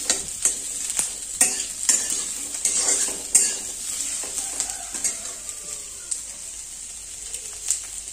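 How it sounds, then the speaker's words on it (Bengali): A spoon stirs and scrapes boiled lobia in a frying pan, repeated clinking strokes over a steady hiss of sizzling oil, close and fairly loud throughout with no voices. "এগুলোকে হালকা একটু নেড়ে চেড়ে নিতে হবে।"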